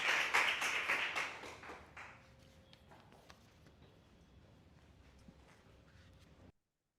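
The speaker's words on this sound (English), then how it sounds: "Please give a huge round of applause." An audience at a chess school's annual awards ceremony applauds a grandmaster. A loud burst of clapping fills the first two seconds, then thins and fades into a quiet room with faint scattered noise.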